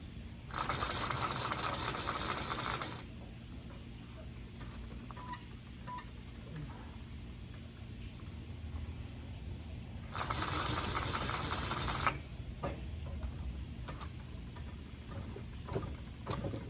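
A cheap Chinese sewing machine runs in two bursts of steady, fast mechanical whirring and stitching. The bursts are separated by quieter stretches of faint ticking and handling noise, and no one talks.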